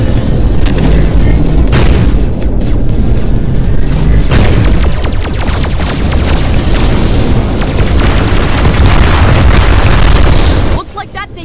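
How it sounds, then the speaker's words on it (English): Homing bombs explode in the VR video game Voltron VR Chronicles, a loud continuous barrage of booms and blasts that ends abruptly. "Using some sort of homing bomb."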